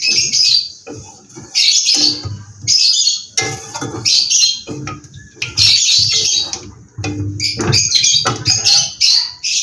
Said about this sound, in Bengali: এখানে আমি কিছু জিরা ফোড়ন দিয়ে দিচ্ছি।